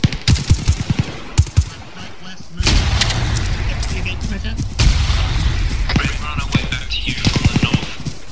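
A frag grenade blast in the military shooter Arma 3, a loud broad boom that hits suddenly and rumbles on, with a second thump partway through, following several sharp bursts of gunfire-like cracks at the start.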